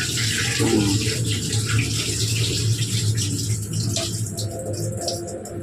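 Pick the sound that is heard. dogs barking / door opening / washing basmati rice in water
washing basmati rice in water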